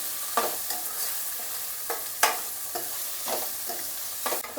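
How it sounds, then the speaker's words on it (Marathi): Chopped tomatoes and coriander sautéing in a pan, a soft continuous sizzle punctuated by about six sharp scraping stirs of a spoon at irregular intervals, with no voices. "टोमॅटो छान मऊ होईपर्यंत आपल्याला परतून घ्यायचा आहे।"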